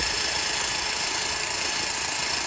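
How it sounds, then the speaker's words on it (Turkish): A power drill whirs steadily with a brush scrubbing against metal parts of an aquarium stand, a constant grinding buzz close up without pause. "Tek fırça ve matkap yardımıyla"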